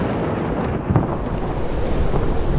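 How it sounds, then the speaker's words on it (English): Thunder with rain as a sound effect, a continuous loud low rumble and hiss with a brief crack near the start, steady and close throughout, with no voices. "the Lord sent thunder and rain that day"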